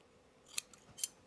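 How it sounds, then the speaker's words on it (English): Scissors snip a piece of binding, two crisp close cuts less than half a second apart. "So let's cut a piece off."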